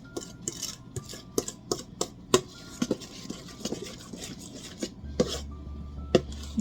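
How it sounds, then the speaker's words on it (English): Green velvet cupcake batter being stirred in a bowl: a series of sharp scraping knocks and rubbing strokes of a utensil against the bowl, irregular and close, over quiet background noise. "We're going to stir this."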